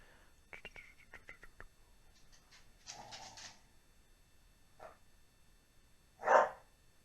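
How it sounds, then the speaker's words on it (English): A dog eager to play lets out a few faint, scattered barks indoors, ending with one sharper yelp, alongside soft whispery sounds. "My dog's going nuts because she really wants to play right now."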